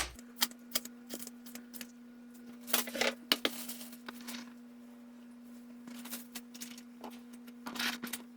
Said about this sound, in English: You cut down to the board, but the board doesn't allow you to cut any farther